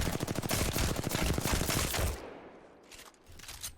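Rapid automatic gunfire in the shooter game Apex Legends, a dense, loud burst of shots for about two seconds that cuts off abruptly into a faint, fading tail.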